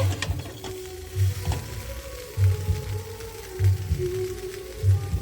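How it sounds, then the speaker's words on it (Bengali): Cauliflower and potatoes sauté in a pan on the stove, a steady sizzle under repeated rhythmic scraping strokes as the pieces are stirred. "ফুলকপিটাও কষানো হয়ে গেছে আলুর সাথে"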